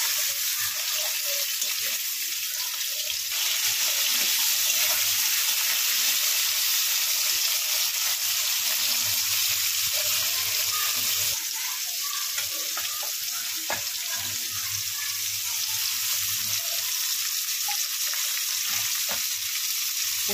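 Potatoes and mixed vegetables fry in oil with a steady, moderately loud hiss, joined by occasional light scrapes of stirring.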